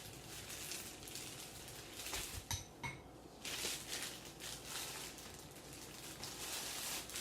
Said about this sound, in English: Now we're going to cut our bread.